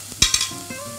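Tomato paste stirred in a pan over low heat while cooking a gluten-free risotto, a brief close scrape of a utensil over a soft, steady sizzle.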